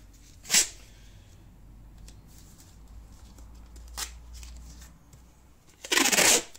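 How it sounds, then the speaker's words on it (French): Masking tape is pulled off the roll and stuck onto an alloy wheel rim, giving sharp ripping tears at the start, midway and a longer strip at the end, with quiet handling between. "En premier on va venir mettre son scotch de masquage."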